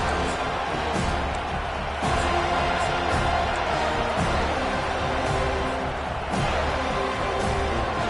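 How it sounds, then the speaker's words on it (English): A stadium crowd roars and cheers steadily throughout a college football video game, Michigan against Florida State, as a dense, constant wash of noise that swells slightly in places. "And the crowd coming to life here"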